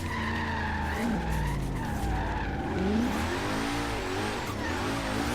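Car drifting in Forza Horizon 3 with the Hoonigan DLC: continuous loud tire squeal and skidding over a revving engine, wavering in pitch as the car slides, no talking.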